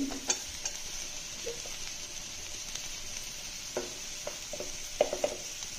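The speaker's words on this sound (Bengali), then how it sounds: "তারপর আবার ভালোভাবে ভেজে নেব।" Chicken stew base of onion, ginger, garlic and green chillies frying in a pan, a soft continuous sizzle with light stirring scrapes and a few clinks of a utensil, fairly quiet and without speech.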